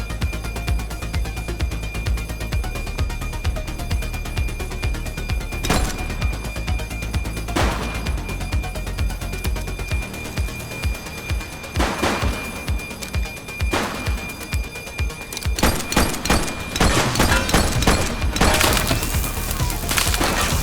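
A suspect fires a gun in the police game The Precinct. Sharp, spread-out cracks ring out over a steady background drone, then turn into a quicker cluster of shots near the end.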